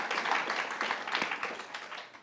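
A room full of people at a COP26 panel event claps steadily for about two seconds, the applause dense and even before tapering off slightly at the end.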